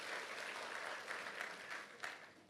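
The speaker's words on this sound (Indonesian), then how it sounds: "Kasih tepuk tangan kemuliaan buat nama Tuhan." Church congregation applauding, a steady wash of clapping hands through the whole short stretch, moderately distant with a slight swell near the end.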